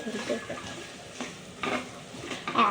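Beef curry with potatoes being stirred in a pot, quiet scraping and soft sloshing strokes at an irregular pace, close by, with a faint sizzle underneath.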